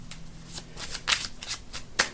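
Tarot cards are shuffled by hand in quick, repeated riffling bursts. The crisp flutters come about twice a second, close and fairly quiet.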